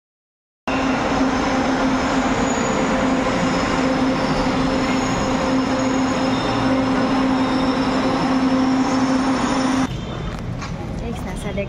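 Onboard an LRT light rail train in Manila, a loud, steady rumble with a sustained tonal whine runs continuously, then drops abruptly to a quieter hum as the car slows.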